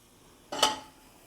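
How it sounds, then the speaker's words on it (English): Soft boiled potatoes tumbling out into a metal baking pan, a single short clattering thud with a brief rattle fading over about a quarter second, close and moderately loud in a quiet kitchen. "I'm just gonna dump them"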